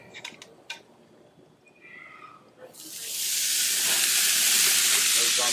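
Flank steak is laid on a hot, oiled grill: a few metal clanks and light handling, then a loud, sustained sizzle bursts in and holds steady to the end.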